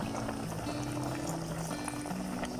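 A pot of water at a steady boil with cauliflower pieces cooking in it for a southern Thai yellow curry with tilapia head, a continuous bubbling hiss with faint tonal hum underneath, no talking.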